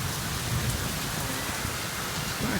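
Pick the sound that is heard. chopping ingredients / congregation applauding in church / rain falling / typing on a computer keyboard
rain falling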